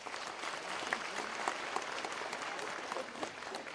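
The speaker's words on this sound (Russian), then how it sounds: "Ваши аплодисменты." Steady applause from an audience filling a hall at a film premiere, dense clapping sustained at even loudness throughout with no speech over it.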